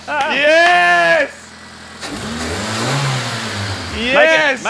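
A modified car engine revs hard in two loud bursts at the start and end, with a lower rumbling rise in between, and people talk excitedly over it.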